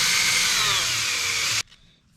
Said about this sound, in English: For people that don't have a lathe, you could use a drill just going on the end there